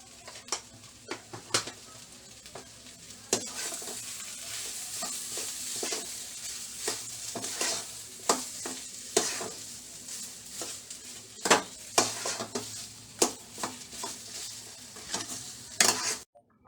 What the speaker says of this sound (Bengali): মাখিয়ে নিয়ে আমি ভালো করে একটু নাড়বো